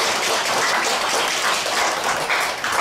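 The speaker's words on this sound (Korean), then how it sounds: "우리 하나님 앞에 박수." Sustained applause from a congregation during a gospel revival meeting at a church in Dongtan, many hands clapping steadily and fairly loudly throughout with no talking.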